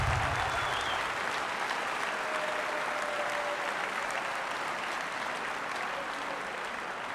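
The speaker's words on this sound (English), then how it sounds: "please a big round of applause for all these volunteers" An audience at the opening ceremony of the European RoboCup 2022 gives volunteers a sustained round of applause, a dense, even wash of clapping from a large crowd that holds steady throughout with no talking.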